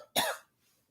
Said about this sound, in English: I can't quit coughing